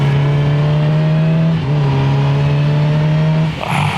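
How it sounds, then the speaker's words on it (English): A loud, low engine drone holds a steady pitch, dipping briefly midway and shifting near the end, like a motorbike exhaust running close by. "My exhaust isn't that loud."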